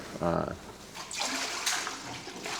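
Water pours into a batch of rye Polish country sourdough dough being scaled in a bakery, a steady splashing rush that fills most of the moment after a brief voice.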